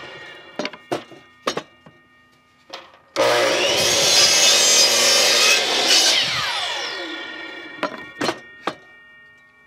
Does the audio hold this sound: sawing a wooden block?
yes